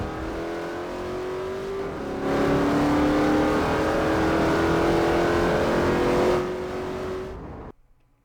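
A car drives in Garry's Mod sandbox, its engine a steady hum with rising pitch lines that grow louder midway, then cut off abruptly near the end.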